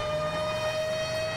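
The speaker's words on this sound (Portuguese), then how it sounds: "Cara, isso é alerta de tsunami, mano." A tsunami warning siren blares across the coast in Grand Theft Auto V, a loud continuous civil defense tone holding a steady pitch, alone with no speech.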